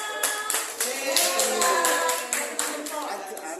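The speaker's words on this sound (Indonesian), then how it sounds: "Tepuk tangan" Children in a classroom clap in rhythmic unison, sharp regular claps about every quarter second, with young voices chattering and calling out over the beat.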